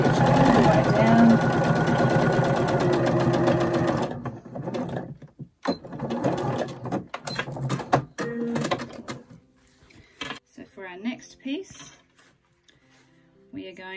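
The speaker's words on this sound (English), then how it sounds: "I'm going to stitch all the way down." A sewing machine runs steadily for about four seconds, stitching down the side of a fabric bowl with a close, even mechanical whirr. Then come scattered clicks and handling noises while a person speaks.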